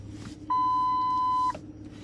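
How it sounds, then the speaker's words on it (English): A single steady electronic beep from a vehicle in reverse, clear and fairly loud, lasting about a second over a low rumbling background. "If you wonder what that little beep noise is, every time I put this vehicle in reverse, it does beep"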